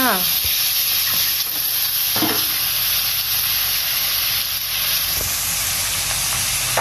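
Shrimp drop into a hot pan of fragrant Thai curry paste with cha-om and shrimp paste, setting off a loud, steady sizzle with scraping stirs and clinks throughout.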